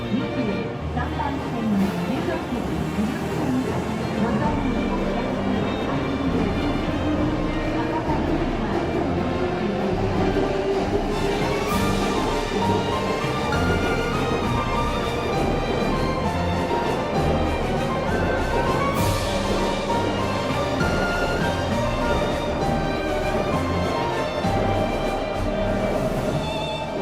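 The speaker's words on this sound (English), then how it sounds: "Alright, that was our train." Nozomi Shinkansen train at a Japanese station, heard as a sustained loud rumble with a rising and falling whine as it passes, busy station noise throughout and faint talk in the background.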